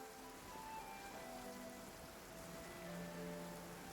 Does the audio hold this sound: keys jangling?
no